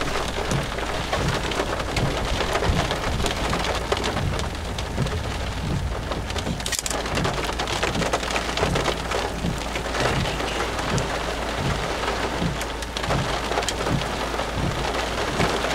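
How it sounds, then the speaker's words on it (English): Steady heavy rain pouring down on surfaces outdoors in Jericho, Texas, a dense unbroken hiss with occasional low rumbles of thunder, continuous throughout with no voices. "Raining."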